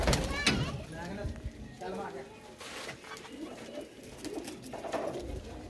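Rooftop pigeons kept by a hobbyist coo softly in the background while people talk over them, with a few sharp knocks and rustles nearby.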